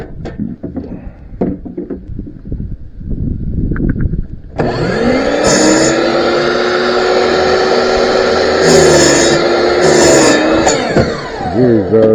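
A power saw spins up and cuts a 45-degree angle in wood, preceded by handling clatter and bumps. Then comes a loud, steady whine with a sustained tone that rises and falls slightly as it cuts, before winding down at the end.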